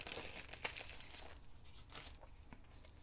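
Plastic packaging of scrapbooking journal bits being opened by hand, close, quiet crinkling and tearing rustles in short irregular bursts with no speech.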